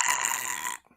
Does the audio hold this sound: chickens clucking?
no